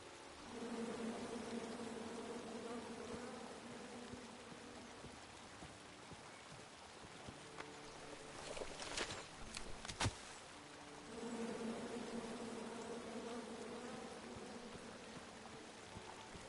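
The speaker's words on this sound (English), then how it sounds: "Come at me, bees!" Bees buzz in the King's Quest video game, a faint droning hum that fades out midway, broken by a few sharp clicks, then returns, soft and in the background.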